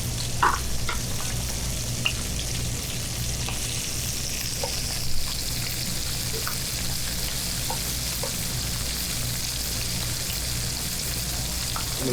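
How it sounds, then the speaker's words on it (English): Fresh salmon sears in a hot pan with a continuous loud sizzle, broken by scattered small pops and crackles, and no voices. "I'm gonna cook this to medium well, so it's slightly opaque in the middle."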